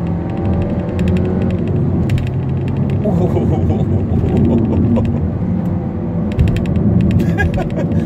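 A Mercedes-Benz A250 with 350 Nm of torque is driven hard, its engine droning loud and steady under constant road and wind roar, with faint mechanical clicks on top.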